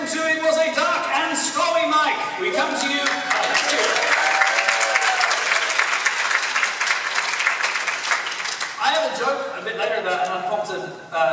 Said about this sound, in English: Yet movingly robust round of applause for the audience, but you actually provided it